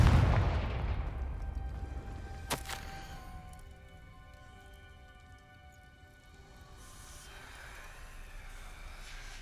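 A Confringo blast spell in Hogwarts Legacy bursts with a heavy booming impact and a sharp crack, followed by a long fading rumble and faint shimmering tones.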